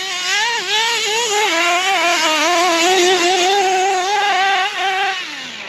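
A Hobao 10SC nitro RC truck engine, a small glow-fuel engine revving hard, with a buzzing, high-pitched whine rising and falling through the rev range and held loud and close before dropping off at the end.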